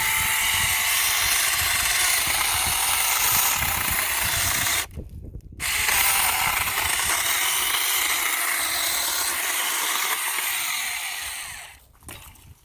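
A Saker 6-inch mini electric battery chainsaw cuts firewood with a loud, steady, buzzing whine. It drops out briefly partway through, then resumes and tapers off at the end.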